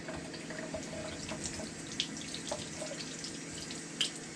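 Cold tap water runs in a steady, soft stream with a few faint clinks and drips over it, heard alone without voices.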